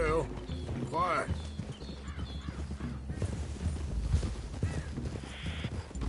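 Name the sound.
horses clip-clopping and neighing in video game Red Dead Redemption 2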